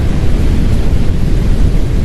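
Storm thunder in the Roblox game, heard while driving a TIV 1 storm-chasing vehicle at the edge of a storm. A loud, continuous, low roaring rumble fills the whole stretch, with no voices.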